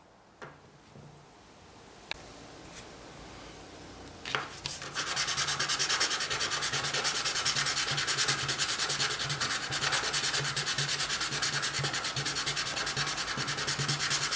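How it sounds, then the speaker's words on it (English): Fine 400-600 grit sandpaper rubbing on a small Stirling engine piston, starting after a few faint taps and then running as a steady, close, continuous scratchy rasp through the rest of the clip. "you need to sand it with fine sandpaper, grit 400 to 600."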